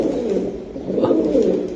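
Pigeons coo in a steady, close, low murmur that continues throughout, with several birds' throaty calls overlapping and no speech.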